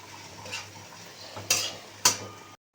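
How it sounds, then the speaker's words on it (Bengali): Fried potatoes and boiled figs are stirred into spice masala in a pan, giving soft scraping strokes and a few sharp utensil clinks against the pot over a low sizzle. "এবার আলু ভেজে রাখা আলুগুলোকে দিয়ে দিলাম, আর সিদ্ধ করে রাখা ডুমুরও দিয়ে দিলাম। দিয়ে একসাথে ভালো করে কষিয়ে নেব।"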